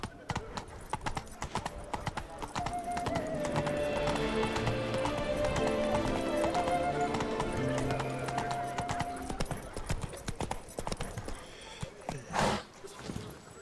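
Horse hooves clip-clopping at a quick, regular pace in the video game The Witcher 3, with game music playing along and a voice speaking briefly.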